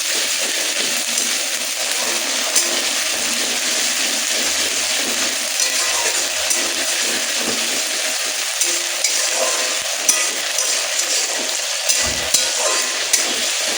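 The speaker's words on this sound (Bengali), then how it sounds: "আর কাঁচা লঙ্কা বাটা। আমি 2 চামচ দিলাম। এটা ভালো করে ভেজে নিতে হবে।" Green chili paste frying in hot oil in a pan for Bengali katla kalia fish curry, a steady close sizzle with occasional light clinks and stirring scrapes throughout, no talking.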